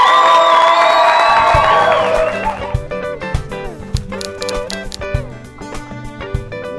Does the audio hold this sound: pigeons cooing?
no